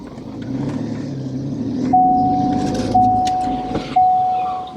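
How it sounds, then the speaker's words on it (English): A car pulls away with its tailgate left open, its engine rumbling and rising in steady surges, with three sharp metallic clicks or chimes ringing out at regular intervals. "show you guys how it's gonna look if we actually gas the car off the spot"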